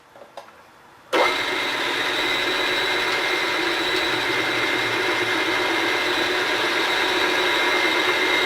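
A Chevy engine surges on abruptly after a few faint clicks and then holds a loud, steady running roar for the rest of the clip.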